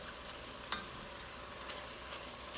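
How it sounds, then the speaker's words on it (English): Ground meat for hot dog chili sauce frying in a pan gives off a steady, soft sizzle with a faint stir or clink early on, low in level and continuous, with no voices. "let me cook the ground meat a little bit more"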